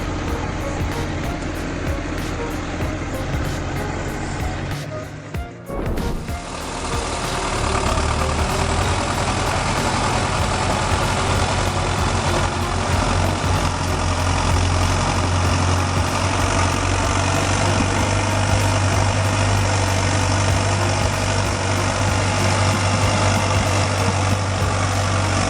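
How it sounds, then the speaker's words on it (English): A rescue tractor engine roars steadily as it strains to pull a John Deere 8400T tractor out of deep mud, with a short drop in the noise before the engine settles into a loud, continuous heavy drone. "the rescue tractor is significantly larger and more powerful than the John Deere 8400T, yet it still struggled hard to pull it out"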